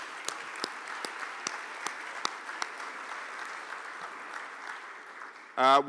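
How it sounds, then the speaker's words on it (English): Conference audience applause, a soft, steady wash of clapping with occasional sharper claps, somewhat distant, ending as a voice starts speaking. "let's give that a round of applause"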